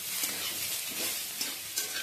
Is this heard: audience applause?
no